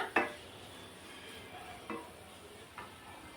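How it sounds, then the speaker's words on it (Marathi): A spoon stirs Kashmiri chili powder, green chili and spices into jowar khichdi in a pan, giving a few soft scrapes and light clinks over a faint, steady sizzle. "सर्व मसाले छान मिक्स करून घेऊया."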